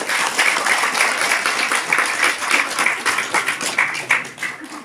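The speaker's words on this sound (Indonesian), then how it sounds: "Aplaus untuk kita semua." Sustained audience applause at a Hindu religious talk in a temple courtyard, dense and steady clapping from a crowd that fades slightly at the end.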